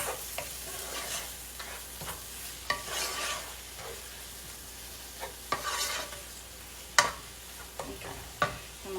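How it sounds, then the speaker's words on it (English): A seasoned sauce for chicken pasta is stirred in a pan. Quiet, irregular spoon scrapes and taps sound over a soft background sizzle. "Alright, let's give that a good mix."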